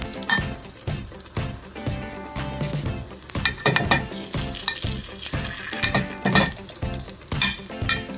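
Sweet coconut batter sizzles steadily in a paniyaram pan for a three-ingredient sweet coconut uttapam, with light clinks of utensils and a busy musical bed over it, no voices.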